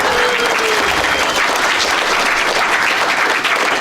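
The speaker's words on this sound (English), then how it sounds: "Actually, yeah, give someone a round of applause." A hall audience gives a loud, sustained round of applause during a hacker convention's closing ceremony, dense clapping heard close and alone.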